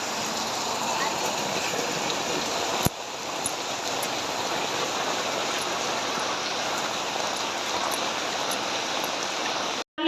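Rain pours steadily in a dense, close, even hiss with a single brief knock partway through and a sudden stop at the end.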